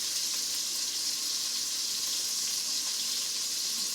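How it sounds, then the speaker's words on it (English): Andouille sausage frying for chicken and sausage gumbo, a steady, bright sizzle that runs without a break from start to finish at moderate volume, with no talking over it. "You hear the andouille sausage in the background."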